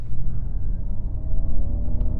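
A 2021 Ford Mustang Mach-E GT electric car accelerating, a steady low rumble of motor and road noise with a faint rising whine, continuous and close from inside the cabin.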